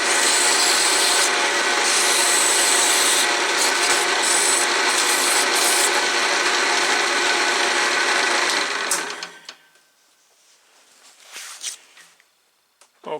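Steady, close abrasive fine sanding of a wooden lace bobbin spinning on a lathe over the motor's hum for about nine seconds, then it stops, leaving faint rustling and a few light knocks.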